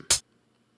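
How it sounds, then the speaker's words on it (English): A short, bright hi-hat hit with a crisp, hissy top end, followed by silence and the start of a second hit. "And here is the hi-hat."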